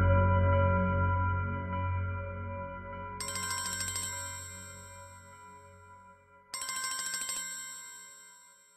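A phone ringtone signals an incoming call, a bright electronic melody that repeats in two bursts with a gap between them, loud and clear with no talking.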